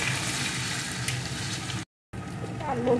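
Crushed ginger and garlic fry in hot oil for chilli paneer, a soft continuous sizzle with light stirring, broken by a brief gap before the frying resumes.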